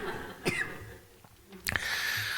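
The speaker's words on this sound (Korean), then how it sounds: "기침을 하면서." Two short, sharp coughs sound at close range, the first a single bark and the second a louder burst, with a quiet pause between them and no talking.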